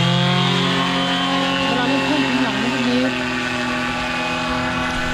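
A paramotor engine throttles up during a first flight with a loud, close, steady buzzing drone. Its pitch rises and wavers through the middle, then holds level.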